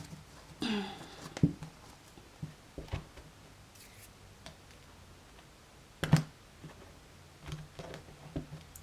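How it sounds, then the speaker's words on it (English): Tarot cards being shuffled during a Capricorn reading, heard as scattered soft papery riffles and taps, with a couple of sharper bursts standing out from a quiet room. "One more shuffle."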